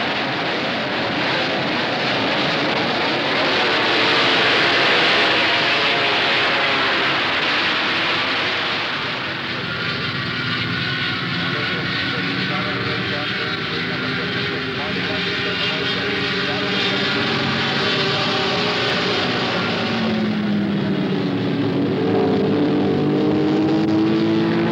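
Unlimited-class racing motorcycles roar at high speed around Daytona's banked track, a loud continuous engine drone with pitch sweeps as machines pass, steady from start to finish.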